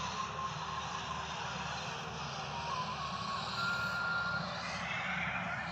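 A tractor passes along a rural road beside wheat fields, its steady engine drone filling the whole stretch at a constant, fairly loud level with no pauses.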